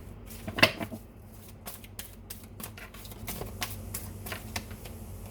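Tarot cards are shuffled and sorted by hand, a run of soft, quick card flicks and taps up close, with one sharper slap near the start.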